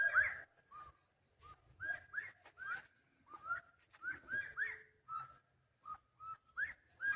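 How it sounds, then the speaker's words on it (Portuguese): Loud, piercing bird calls by a river at night, repeated in short shrill bursts with brief pauses between them, close by and alone with no talk. "esse pássaro canta parece que tá gritando"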